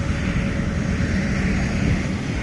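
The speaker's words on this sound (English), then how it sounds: "Very nice airplane." Steady, loud roar of a Boeing 787 airliner's engines at an airport, a continuous broadband rumble holding level throughout with no voices.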